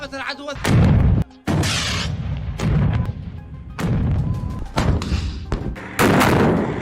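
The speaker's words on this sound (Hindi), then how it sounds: "हूती ने इजराइल के तेल अवीव शहर पर एक बैलिस्टिक मिसाइल दागी" Explosions from a Houthi ballistic missile attack on Tel Aviv: heavy, booming blasts and crashing rumbles arrive in several loud bursts with brief gaps, and a few voices are mixed in.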